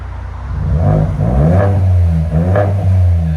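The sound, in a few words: Ford Edge ST 2.7L EcoBoost engine revving, muffler delete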